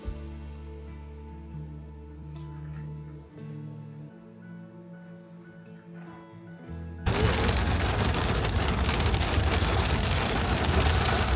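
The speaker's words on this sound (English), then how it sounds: "the rain did set in as predicted." Heavy, steady rain pours down loudly, a dense continuous hiss that begins abruptly after a quieter stretch of low tonal background.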